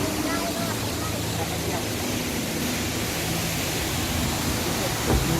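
Khlong Lan waterfall in a Thai national park roars as a constant, dense wash of falling water that fills the whole stretch evenly and close by, with no pauses.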